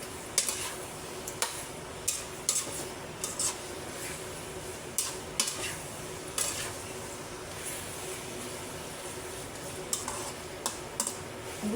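A pot of Filipino pork menudo being stirred, giving soft scraping and periodic sharp clacks of a spoon against the pot over a faint simmering sizzle, fairly quiet and steady, with no talking.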